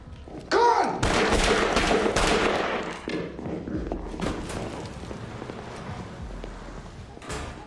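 Gunfire erupts in a tense police street confrontation, a burst of sharp shots followed by a few scattered cracks and thuds, loud and close, with a shouted warning just before.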